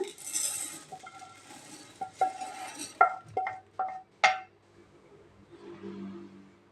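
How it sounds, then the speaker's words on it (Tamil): Roasted urad dal being transferred into another vessel, a quick run of bright metallic clinks and taps as a spoon strikes the pot, about half a dozen close ringing hits that then fade to quiet. "இப்போது இந்த உளுந்தை வேற ஒரு பாத்திரத்துக்கு ட்ரான்ஸ்ஃபர் பண்ணிடலாங்க"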